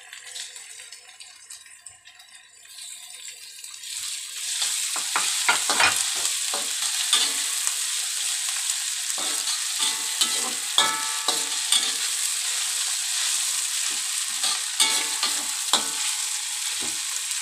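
Crushed chilli and garlic sautéing in a pan for a homemade fish dish, a steady frying sizzle that swells after a quieter start, broken by frequent scraping and rattling strokes of a stirring spoon.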